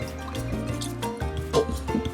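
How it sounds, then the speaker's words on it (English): Water splashes and drips into a cooking pan in quick, close bursts, mixed with a low, steady kitchen hum and no talking. "So now I'll add a bunch of water to my pan."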